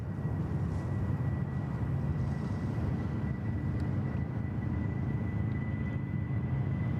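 A Qantas airliner at Sydney Airport gives a long, even roar that holds steady and fairly loud for several seconds, with no voices over it.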